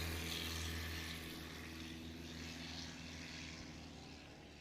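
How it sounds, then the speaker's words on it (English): A 180-horsepower propeller airplane at a STOL competition in Texas, its engine a steady, droning buzz close by that slowly fades slightly, with no talk. "180 horsepower in the front of this aircraft."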